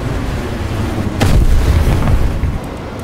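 A loud, booming missile explosion in an aerial combat video game, bursting suddenly and rumbling heavily for about a second before fading into steady background noise.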